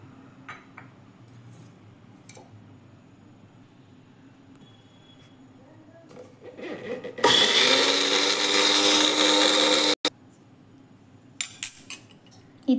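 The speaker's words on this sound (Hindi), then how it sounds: "फिर इसे हम ग्राइंडिंग जार में डाल के अच्छे से पीस लेंगे।" Mixer grinder jar grinding neem leaves with a little coconut oil, a loud steady whirring roar lasting about three seconds, stopping abruptly, with short bursts before and quiet handling noises around it.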